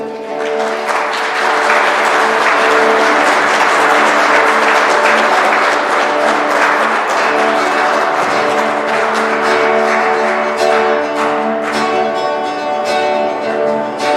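A congregation applauds at a Christmas Eve Mass in a church, a dense, steady wash of clapping lasting throughout, with sustained musical tones ringing underneath.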